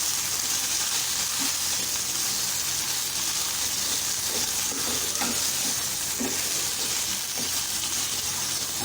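Okra frying in a pan for bhindi do pyaza, mixed gently with a spoon; a dense continuous sizzle with soft stirring scrapes throughout, no talking.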